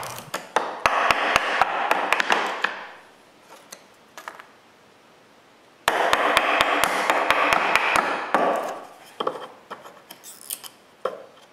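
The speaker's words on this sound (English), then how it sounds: "plywood doesn't cut well with chisels" A chisel cuts into plywood in a workshop with sharp, rapid taps and scraping, in two bursts separated by a quieter pause, then scattered lighter knocks.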